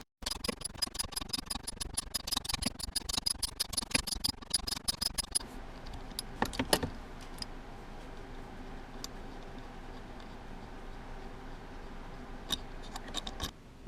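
A 12mm wrench and socket loosening a car's transmission linkage, a fast run of close metallic ratchet clicks for several seconds, then a few scattered sharper clicks and taps with quiet gaps between.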